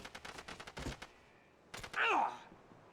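Bursts of rapid gunfire in the PlayStation shooter SOCOM U.S. Navy SEALs Combined Assault, a string of sharp shots followed after a pause by a louder crackling volley with a ringing tail.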